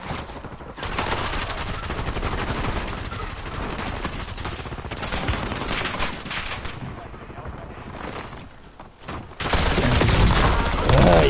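Gunfire in the video game Warzone, dense rapid shots and rattling bursts over a busy battlefield mix, fading briefly before a loud final volley, with voices talking now and then.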